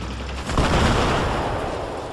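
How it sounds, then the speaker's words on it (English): A big explosion in the video game Battlefield 3 sets off a loud, sustained, broadband roar and rumble that swells after a brief low start and fills the whole stretch, with no talking. "That was a big fucking explosion, and my computer didn't miss a beat."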